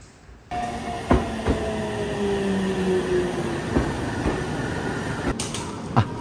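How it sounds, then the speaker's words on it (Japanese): A local passenger train bound for Fuji rolls into a Minobu Line station nearby with a steady rumble, wheel clicks and a brief high squeal of brakes, ending in faint hisses. "次に乗ります12時34分発の富士行きの普通列車がやってまいりました"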